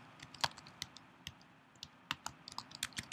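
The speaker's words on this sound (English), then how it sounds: "Sorry my typing is so loud. It's kind of clicky here." Loud, clicky computer keyboard typing in irregular bursts of sharp keystrokes, close to the microphone, with no voices.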